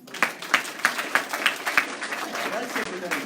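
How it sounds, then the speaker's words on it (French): At a psychic fair talk, a small audience claps with several distinct, spaced hand claps standing out above a softer scattered patter, fairly close and lively. "Alors on applaudit."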